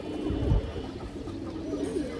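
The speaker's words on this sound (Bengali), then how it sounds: "এই যে দেখেন একটা লাল খাকি মাদি কবুতর" A red khaki female pigeon at a farm of racing and high-flying birds coos in low, rolling phrases, steady and close, with a slightly louder swell near the start.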